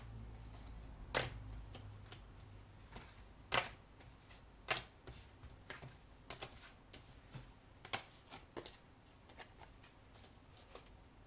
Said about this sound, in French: je vais tirer cette autre carte.